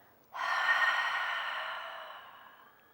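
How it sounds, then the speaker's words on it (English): A single long, deep breath pushed out through the mouth during a yoga relaxation practice, a close breathy rush that starts abruptly and slowly fades over a couple of seconds. "Long and deep exhale."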